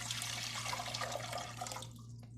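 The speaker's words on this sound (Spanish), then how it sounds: "vamos a poner agua," Water from a kitchen tap runs steadily into a cooking pot for potatoes, a close, continuous splashing rush that thins out and stops near the end, with a low hum underneath and no talking.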